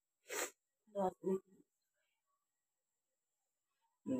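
A mother sick with a cold coughs in short, rough bursts: one breathy, hacking burst, then two quick voiced coughs, and another harsh cough after a pause, all fairly close.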